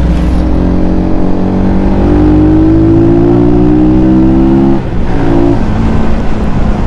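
Rusi Flash 150X FI motorcycle engine revving loudly through its exhaust pipe during a test ride, a steady close drone with rising and falling harmonic pitch, briefly dipping near the end before climbing again.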